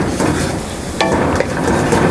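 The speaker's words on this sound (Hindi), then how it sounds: "तो मसालों को हम 1 से 2 मिनट के लिए अच्छी तरह से" Spices and kasuri methi frying in a hot pan while stirring for a palak paneer, a steady close sizzle with faint scraping and a brief clink partway through, no voices.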